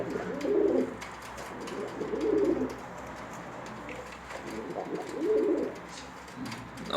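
Pigeons coo in low, repeated phrases, four rounded bursts spaced about a second apart, fairly close, against a steady background hum with no talking.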